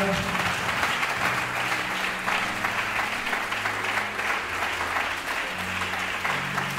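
A church congregation claps in praise, sustained dense applause from many hands with music tones underneath, continuous and fairly loud throughout.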